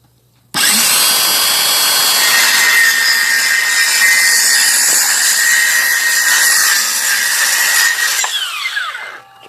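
A circular saw cuts a solid wood bed piece at a 45-degree bevel, a loud steady high whine for about eight seconds that spins down at the end, with no talk.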